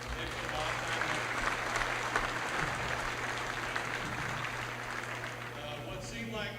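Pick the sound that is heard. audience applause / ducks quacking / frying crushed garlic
audience applause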